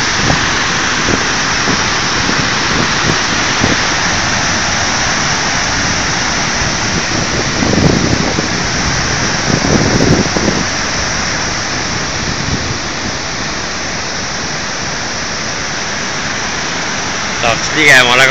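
Norway's highest waterfall roars as a steady, loud, broadband rush of falling water that fills the whole stretch without letup.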